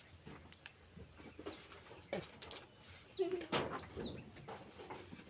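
Outdoor birds chirp and call intermittently, with a few brief sharp calls standing out over faint background noise and distant murmuring.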